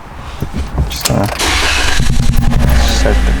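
Toyota Corolla engine starting: a short cranking whir followed by the engine catching and settling into a loud, steady idle, heard close up with no talk.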